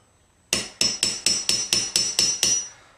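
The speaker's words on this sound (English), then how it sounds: "I guess I could get a better hammer." Nine sharp metallic hammer strikes land in a steady, even rhythm, loud and close, with brief ringing after each blow.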